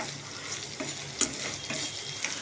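Beans and other vegetables frying in oil in a pan, a soft continuous sizzle with light stirring scrapes and small ticks, close but faint, no talking.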